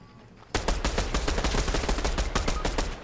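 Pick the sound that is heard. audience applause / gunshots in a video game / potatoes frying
gunshots in a video game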